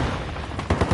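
Sniper gunfire in a video game, a few sharp reports ringing out in the latter half over a steady game background, the last shots louder and closer.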